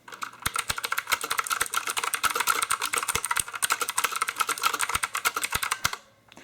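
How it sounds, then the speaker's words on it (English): Fast, continuous clicky typing on a Marvo Bigbang S1 compact mechanical keyboard with blue switches, sharp crisp keystrokes in rapid rhythm, close up, stopping just before the end. "a demo of what the switches sound like and a typing test"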